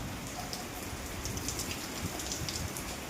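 Heavy rain pours down in a windy storm, a steady, dense hiss of drops drumming close by on surfaces without a break, with no voices.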